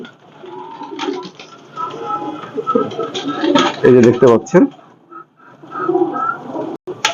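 Pigeons cooing from wooden coops, a mix of Pakistani breeder birds, with soft repeated coos close by under someone talking.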